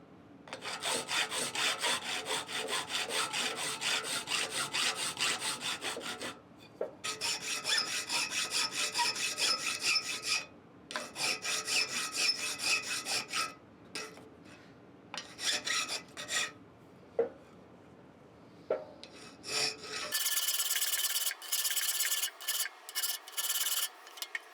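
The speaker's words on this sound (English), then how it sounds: "I'm using the block as a fulcrum to be able to file a radius that's larger than the diameter of the file that I'm using" A hand file is worked across a forged steel shop door latch to shape a radius, with a block used as a fulcrum. Steady, close rasping strokes come in long runs with brief pauses, then shorter, quicker strokes toward the end.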